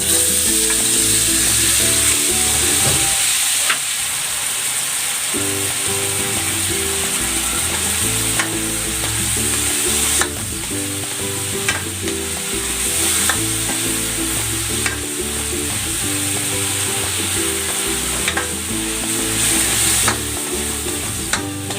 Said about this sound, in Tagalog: Maglagay tayo ng cooking oil. Ayan, lulutuin natin bahagya itong ating hipon.